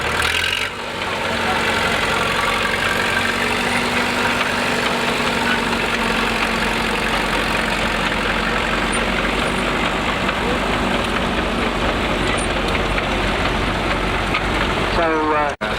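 A vintage tractor engine runs at the Long Melford Steam Rally, a loud, steady, close mechanical drone holding unbroken for the full length with no voices.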